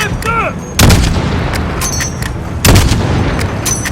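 Gunfire aimed at vehicle tires in Call of Duty: Modern Warfare. Two heavy, booming shots ring out about two seconds apart over a constant loud rumble and background battle noise.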